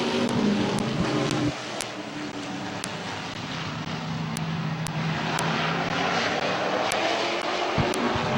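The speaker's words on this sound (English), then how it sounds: "we're going green flag racing for these Macintosh Oil late models" Late model race cars roar past at green-flag speed on a speedway oval, a loud continuous engine drone with shifting pitch as the pack passes, and sharp ticks over the top.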